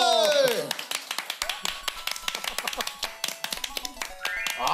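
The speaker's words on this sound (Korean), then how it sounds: "여러분 박수!" Rhythmic hand clapping from a Korean TV talk show studio audience welcoming a guest, a quick run of close, sharp claps following a brief burst of voices at the start.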